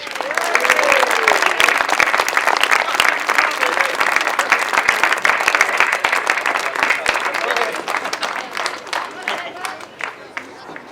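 A crowd at a grasstrack racing meeting applauds and cheers the third-placed solo rider at a prize-giving, with steady dense clapping held for the whole stretch and a voice over the crowd.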